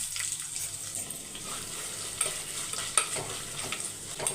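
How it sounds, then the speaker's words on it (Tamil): Onions sautéing in oil in a pan, with a steady close sizzle and fry crackle under occasional stirring scrapes, no talk. "இப்போ வதங்கிட்டோம் வெங்காயம்"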